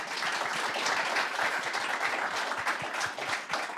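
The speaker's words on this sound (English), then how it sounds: "Big round of applause" A room full of people applauds award winners at an enterprise awards ceremony, a steady, moderately loud crackle of clapping that holds even throughout.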